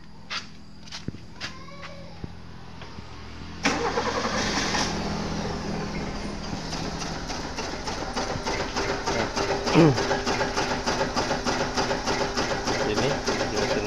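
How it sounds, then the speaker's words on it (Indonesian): A 1997 Suzuki Baleno with a misfiring engine: after a few clicks and knocks, the engine cranks and catches, then idles close by with a rough, uneven, pulsing chug. "Kita tes kembali hidupkan mesinnya"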